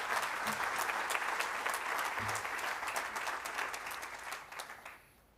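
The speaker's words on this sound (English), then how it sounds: "Please give Mr. Lauriston a big round of applause." An awards-ceremony audience claps steadily for several seconds at moderate distance, the dense applause thinning and fading out at the end.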